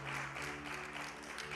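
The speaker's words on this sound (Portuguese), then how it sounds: "Palmas para o Senhor Jesus." A church congregation at a Sunday service applauds together, a brief burst of steady clapping filling the room, heard from some distance.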